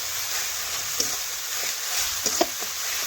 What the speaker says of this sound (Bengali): তো এইভাবে আমি দুই থেকে তিন মিনিট মশলা ভালোভাবে কষে নেব